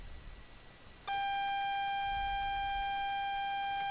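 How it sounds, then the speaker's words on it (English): The AWS self-test alarm in the Train Sim World Great Western Express train simulator sounds as a single continuous electronic tone, starting abruptly after a quiet cab hum and holding steady and loud with no speech. "That alarm is the AWS self-test system."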